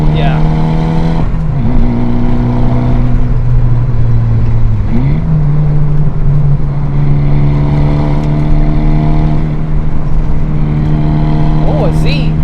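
A car with a big brake upgrade and worn-out tires driving a canyon road, its engine droning loud and close, revving up through gears and dropping off around braking, with a driver talking over it.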